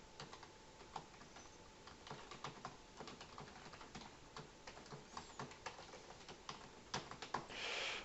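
Close, quiet computer keyboard typing, irregular bursts of light key clicks and taps with short pauses between them, and no talking.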